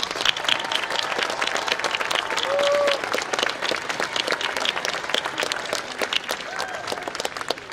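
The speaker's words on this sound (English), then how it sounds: "a round of applause for all their service to the college" A commencement audience at a community college gives a sustained round of applause for retiring faculty, dense clapping from a large crowd with brief cheers and voices mixed in.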